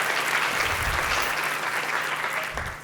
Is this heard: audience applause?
yes